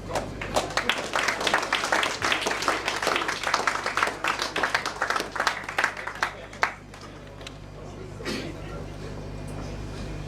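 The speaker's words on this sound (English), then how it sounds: "Continue clapping." An audience at a KCNSA installation ceremony claps together in a dense, steady burst lasting several seconds, then thins out and fades, with voices mixed in around the applause.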